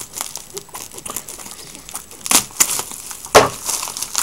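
A Rubik's Cube package is opened and unwrapped up close, with crinkling plastic, rustling and a few sharper crackling tears in short bursts.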